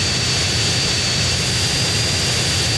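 Military jets roaring in the GTA San Andreas video game, a loud continuous engine drone with a thin high whine on top, filling the whole moment without any talking.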